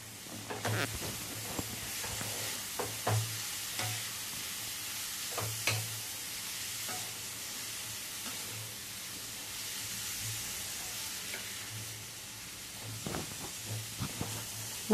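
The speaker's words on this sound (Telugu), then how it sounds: "ఇందులో తురుము పెట్టుకున్న క్యారెట్ కూడా బాగా ఫ్రై అవ్వాలి" Grated carrot frying in a pan, sometimes under a lid, gives a soft, steady sizzle and hiss throughout, quiet and close, with a few faint stirring clicks and no voices.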